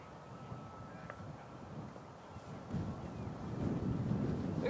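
Gusting wind buffets the microphone on a golf course, a low rumbling roar that swells and grows louder toward the end, with no clear talk.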